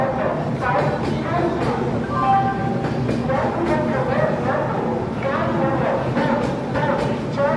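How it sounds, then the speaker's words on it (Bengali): The Sealdah Bikaner AC Duronto Express runs through Asansol station without stopping, its wheels rumbling and clacking steadily at close range with faint squeals, under continuous talk. "স্টেশন ছাড়িয়ে চলে গেল শিয়ালদা বিকানের এসি দুরন্ত এক্সপ্রেস"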